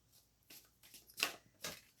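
Tarot cards are shuffled in quiet bursts, a few soft riffles and swishes at close range, faint overall, with brief pauses between them.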